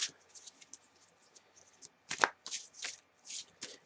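A deck of tarot cards is shuffled in crisp close riffles and flicks, sparse taps at first, then quicker bursts of card snaps.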